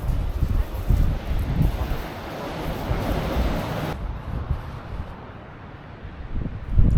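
Strong wind buffets the microphone outdoors on the coast near Vik, Iceland, a loud, rushing roar with gusty swells and a hint of surf beneath, easing slightly partway through.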